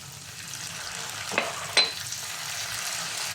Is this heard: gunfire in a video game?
no